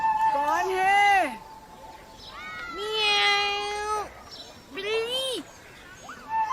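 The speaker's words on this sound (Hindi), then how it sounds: "बिल्ली।" A cat meows close by: three drawn-out, wavering meows followed by a short final one, each loud and distinct against a quiet indoor background.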